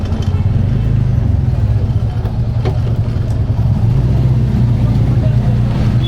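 An auto rickshaw engine runs steadily and close by with a constant low drone as the vehicle is turned around, no speech over it.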